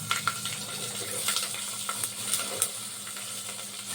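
Garlic and onions frying in oil with sun-dried vadagam for a simple kara kuzhambu, a steady close sizzle with occasional stirring clatter throughout.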